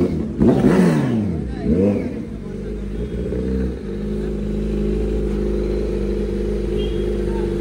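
A Kawasaki Z900 with an Arrow full-system exhaust revs sharply a few times, each blip rising and falling, then settles into a steady, deep, close-up idle rumble.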